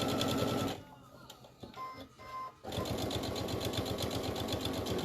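Sewing machine stitching fabric squares, a steady rapid mechanical whir that pauses for a pivot at a corner, with handling clicks and a brief voice, then resumes running continuously.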